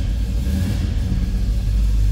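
A 1970 Oldsmobile Cutlass S engine running just after a cold start, giving a steady, deep, close rumble with a slight uneven throb and no voices.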